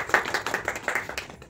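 A small group of people claps hands at a makeup class, a quick, fairly even run of close claps lasting just over a second.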